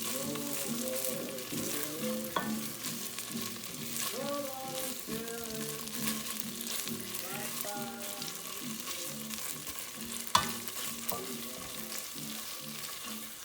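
Tomato paste being stirred into a pot of meatball spinach soup, with steady sizzling and bubbling from the pot and soft scraping strokes of a spoon, close and alone without talk.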